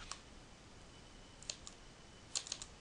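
Quiet, sparse computer mouse clicks on an OK button in a software dialog, a faint single click early, another around the middle, then a quick cluster of two or three near the end, close and crisp over near silence.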